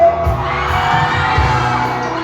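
Campers at an opening-night camp gathering shout and cheer together on cue, a loud, dense crowd roar that holds steady for about two seconds.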